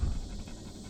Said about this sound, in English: he's a heavy dog